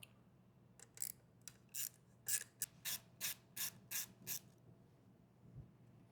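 Torx T15 screws being removed from a Lowrance Ghost trolling motor, a quiet run of about a dozen short rhythmic scraping ratchet-like strokes as a screwdriver turns, close and faint, then stillness.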